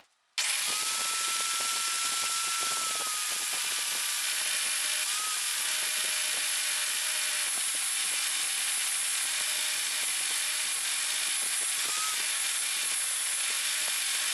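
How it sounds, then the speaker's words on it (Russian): An angle grinder clamped to a table grinds a beech hammer handle: a sudden start, then a loud, sustained high whine with shifting tonal pitch as the wood is pressed against it. "Закрепив струбциной болгарку к столу, начинаю шлифовать рукоятку."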